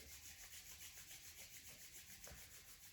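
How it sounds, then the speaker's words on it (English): Two palms rub briskly together close by, making a soft, rhythmic swishing friction with regular back-and-forth strokes that continue steadily under a quiet hiss. "Rub your hands together."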